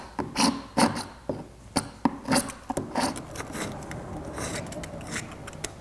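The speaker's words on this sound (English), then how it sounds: "I could probably try and scrape some of this paint and caulking off of here." Paint and caulking are scraped off a painted wood surface, a series of short, close rasping strokes in a quick irregular rhythm, fading into softer rubbing toward the end, with no talking.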